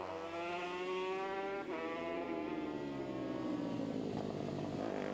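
Moto3 and Supersport 300 race motorcycles at the Cookstown 100 road race, high-pitched engines screaming continuously as bikes pass, rising and falling in pitch, loud and sustained with no talk.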